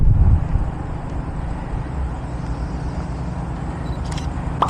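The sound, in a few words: cars rolling past on road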